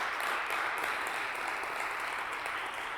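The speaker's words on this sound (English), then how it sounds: "give them a big round of applause" An audience at an ocean governance conference applauds with a dense, steady wash of clapping that holds evenly from start to finish.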